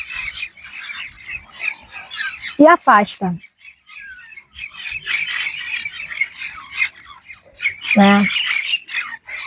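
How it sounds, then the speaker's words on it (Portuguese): Birds fly past outdoors giving harsh, raspy squawks, with two louder bursts standing out among scattered chatter. A person speaks briefly between the calls. "Os pássaros estão passando aqui bem na hora"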